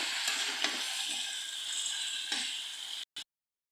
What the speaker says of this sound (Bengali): মধ্যে দিয়ে দিচ্ছি সিদ্ধ করে রাখা লাউ শাকগুলো খুব ভালো করে নাড়াচাড়া করে আমি ঝরঝরা করে শাকটাকে ভাজি করে নেব